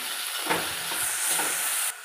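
Stirring banana flower in a hot pan of tempering with a steady sizzle and hiss, spoon scrapes and shuffles clustered in short bursts, close and fairly loud.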